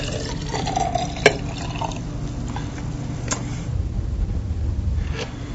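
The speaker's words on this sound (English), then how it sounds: "Now we're going to pour this juice into this glass." Juice is poured into a glass as a steady liquid trickle with a few small drips and clinks. The pouring runs for several seconds at close range with no talking.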